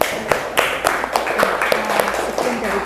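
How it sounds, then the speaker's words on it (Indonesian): A small classroom audience claps for the first group after its discussion presentation, giving sharp, scattered claps in an uneven rhythm with voices murmuring underneath. "Tepuk tangan untuk kelompok 1."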